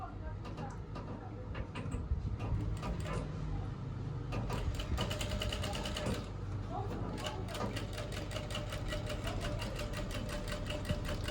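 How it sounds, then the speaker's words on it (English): A straight sewing machine stitches a thread design on fabric, sewn from the wrong side, with a steady close mechanical whirr and rapid needle ticking running throughout, while low-level voices are faintly audible under it. "I'll be sewing it from the back, like from the wrong side"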